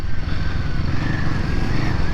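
Royal Enfield Himalayan 450 motorcycle riding through mud, its single-cylinder engine thrumming loud and close in a steady, throaty drone without any talking.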